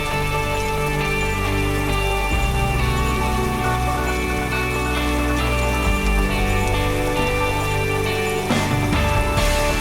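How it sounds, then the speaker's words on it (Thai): Rain pours continuously in a beekeeping video game, an even hiss of drops layered over steady humming music, loud and unbroken throughout, with no voices. "อยู่ใต้ฟ้าอย่ากกลัวฝนสินะ"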